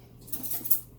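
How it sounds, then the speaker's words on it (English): A fork whisks eggs in a bowl for cornbread, a brief burst of quick metallic tapping and scraping against the bowl, close and light, with no talking. "I got to whisk those eggs"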